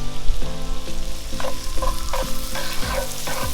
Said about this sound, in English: So I'm going to go ahead and stir it up.